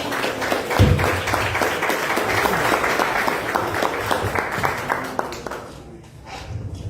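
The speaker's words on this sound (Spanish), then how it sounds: "Recibimos con un fuerte aplauso al pastor René" A church crowd at a vigil gives a loud, sustained round of applause welcoming pastor René, dense clapping that thins and fades toward the end, with a brief thump near the start.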